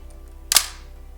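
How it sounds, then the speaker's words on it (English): One crisp mechanical shutter click from a Nikon EM film camera, short and close, over a faint low hum. "I've always liked the shutter sound on this camera."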